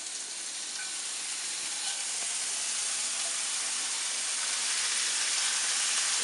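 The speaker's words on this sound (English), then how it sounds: "We're going to brown this bacon." Chopped bacon sizzles and browns in a skillet as a starter for pasta carbonara, giving a loud, dense, continuous hiss that stays close and steady and grows slightly stronger, with no voices.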